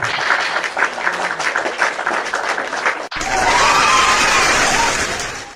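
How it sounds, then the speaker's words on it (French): A crowd bursts into loud, sustained applause with cheering, the clapping steady and dense for several seconds before swelling into a broader roar. "Je vais t'applaudir là-bas."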